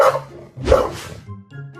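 Dog barking in a Minecraft parody animation, two short yipping barks close and clear with a brief whimper-like tail, no talk over them.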